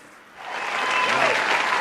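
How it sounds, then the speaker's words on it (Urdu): Audience applause at an Urdu poetry recital, starting faintly and then swelling into steady, sustained clapping from a large crowd that holds at full strength to the end. "میں چاہتا ہوں کہ ان کے لیے آپ تالیاں بجائیے"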